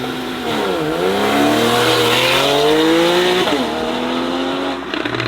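A Porsche 911 Targa engine making 400 horsepower revs hard through rising pitch sweeps, with a gear change and further climbing revs, loud and close, with a whiff of tire noise.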